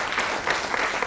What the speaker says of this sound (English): Yes, a little applause.